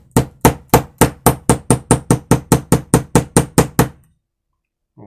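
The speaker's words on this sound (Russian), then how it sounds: "Просаживать аккуратненько вот этот подшипничек. То есть маленьким молоточком" A small hammer taps a bearing into a petrol brush cutter's gearbox in a fast, even rhythm, about fifteen sharp ringing strikes close up, then stops into silence.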